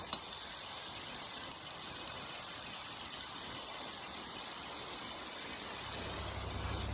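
Chicken kosha sautéing in oil in a pan, giving a steady, fairly quiet sizzle with a faint hiss throughout and a couple of small clicks near the start.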